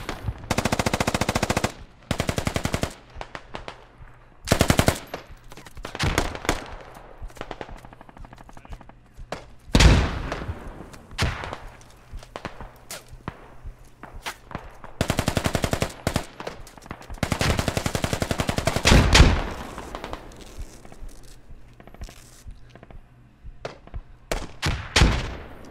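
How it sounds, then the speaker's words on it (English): Machine gun fire in the tactical shooter game Squad, repeated bursts of rapid automatic shots, some long and sustained and others short, separated by gaps and scattered single shots, loud and close. "Who's machine gun is that? Friendly."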